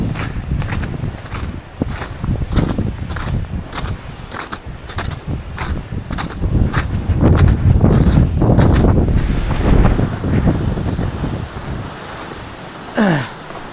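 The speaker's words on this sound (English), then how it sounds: "Super fucking windy up here." Strong gusting wind buffets the microphone above the tree line in the Kinsman Mountains in winter, loud and roaring in rhythmic bursts, with crunching footsteps beneath and no talking.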